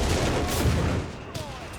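Artillery and gunfire from the video game Company of Heroes 3 in a desert Afrika Korps versus British battle: a dense burst of rapid booming shots that drops to a quieter tail with one more sharp report.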